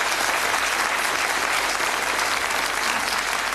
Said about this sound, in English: Guests, give him a nice round of applause.